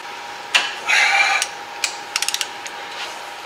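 A socket ratchet works on a Chevy Chevelle, loud close clicks and short bursts of rapid pawl ticking, with a brief metallic scrape and pauses between strokes.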